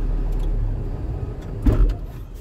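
A truck's engine idles with a low rumble inside the cab, then a short clunk and mechanical shudder as it is switched off during a pre-trip brake test, the drone fading afterward.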